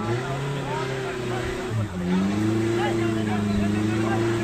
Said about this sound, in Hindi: गाड़ी स्किड करने लग गई है।